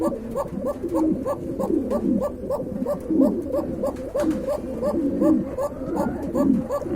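Arabian pigeons coo in a steady, repeating rhythm, several soft calls overlapping close by, including a white female, with faint talk in the background.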